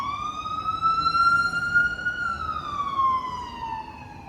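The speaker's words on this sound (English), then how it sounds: "A lot of sirens." Wailing emergency vehicle siren on a New Orleans street in the French Quarter, its pitch rising and falling in a long sweep, loud and steady over a busy street background.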